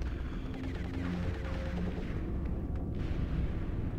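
A heavy explosion in the XCOM: Enemy Within video game, during a base-defense mission, heard as a loud, dense rumbling roar that sustains evenly for about four seconds, with no voices over it.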